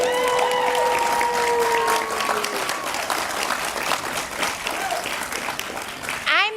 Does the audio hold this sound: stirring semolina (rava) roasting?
no